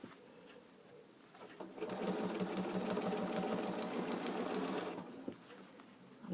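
A sewing machine stitches over earlier stitching on a fabric lining, a fast, steady mechanical rattle that starts after a quiet moment, runs for about three seconds, then stops.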